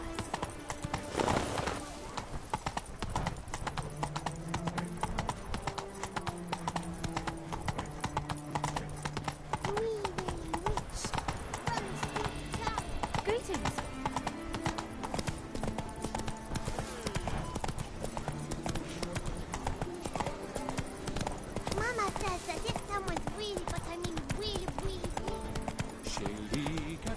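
Roach, Geralt's horse in The Witcher 3, gallops with a fast, steady clip-clop of hooves that runs the whole way, mixed with game music, occasional snorts and brief talk.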